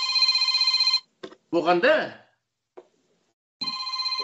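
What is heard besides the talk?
telephone ringing with an incoming call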